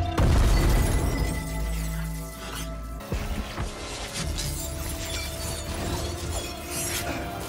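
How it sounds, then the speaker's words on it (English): Glass shatters in an episode of the animated series Arcane, a loud crash with a heavy boom and scattering fragments that trails into mechanical rattling and clinking debris under a music score. "And glass flying everywhere."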